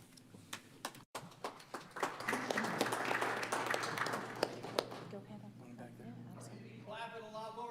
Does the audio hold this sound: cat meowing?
no